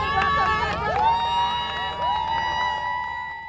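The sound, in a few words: teachers, parents and alumni cheering as school buses arrive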